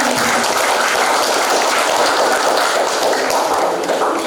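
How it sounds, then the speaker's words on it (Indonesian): Steady, loud applause fills a hall as an audience at a DPRD member's community recess meeting at SMKN 5 Sijunjung claps for a speaker, with dense, continuous clapping throughout. "kita berikan tepukan meriah kepada Bapak Safian"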